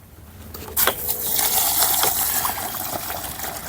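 Hot water gushes into a bucket holding urea granules, starting with a sharp splash and continuing as a loud, steady, close pour to the end, with no speech.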